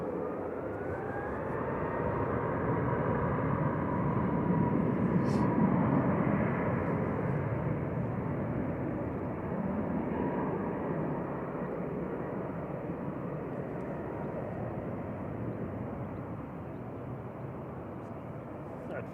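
A Jet2 passenger jet takes off at Manchester Airport, its engines a loud, steady broadband roar that swells and holds for the whole stretch, with faint talk from nearby spotters beneath it.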